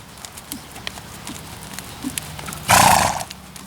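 A horse trots in a posting trot during riding instruction, giving soft rhythmic hoofbeats at a steady tempo, followed by a loud neigh near the end.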